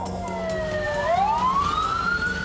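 Fire engine sirens wail as nine fire trucks arrive at a night house fire in a crowded hillside neighborhood; a loud siren sweeps down then climbs steadily over a low traffic rumble, with no talking.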